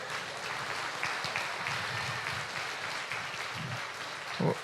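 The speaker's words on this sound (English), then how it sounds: "Let's give them a nice round of applause here." A crowd at a state fair beef cattle show claps steadily throughout, a dense even patter of applause heard at moderate distance.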